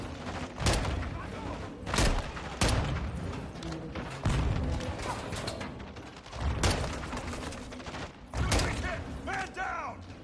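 Rapid bursts of gunfire and heavy explosive thuds from grenade launchers in the Call of Duty Modern Warfare 2 campaign, recurring every couple of seconds in a loud chaotic firefight, with voices shouting in between.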